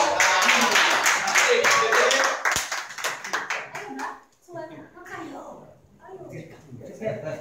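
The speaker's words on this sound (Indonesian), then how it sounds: "Aplaus untuk Citra." A group claps in applause for Citra as she is invited up to sing, a brisk burst of many hands for about four seconds, then thinning out as voices talk over the room.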